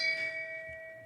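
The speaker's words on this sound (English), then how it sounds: "Can we send a shame bell out to the universe to whoever made that decision?" A single bell strike rings out, a clear sustained metallic tone fading slowly on its own.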